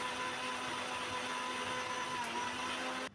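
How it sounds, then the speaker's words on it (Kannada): An electric mixer grinder blending raw mango with water, a loud steady motor whine running continuously before cutting off abruptly at the end. "ಇವಾಗ ನಾನು ಇದಕ್ಕೆ ನೀರನ್ನು ಸೇರಿಸ್ಕೊಂಡು ಮಿಕ್ಸಿ ಬಂದ್ಬಿಡೋಣ."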